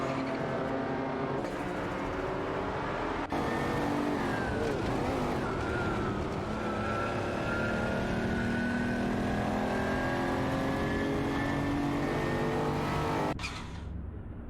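Race cars in a racing video game, including a De Tomaso Pantera DT5 and a Porsche 959, sustain a loud engine drone with long rising and falling pitch as they accelerate, steady and close, with no voices.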